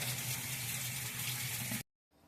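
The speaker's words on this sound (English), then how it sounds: "It's been adding water after it canceled the wash." A Whirlpool washing machine, faulty after cancelling its wash, adds water in a steady loud gushing stream that cuts off abruptly near the end, followed by quiet.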